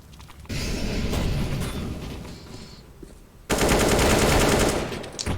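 Gunfire in a Counter-Strike match: rapid bursts of automatic fire crackle loudly, pausing briefly before a second, heavier burst erupts and continues to the end.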